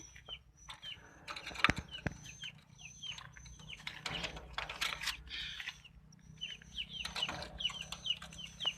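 Pet chickens cluck repeatedly in short, bright calls, with wing flapping and some mechanical rattling in the background; the sounds come from moderately close and keep recurring.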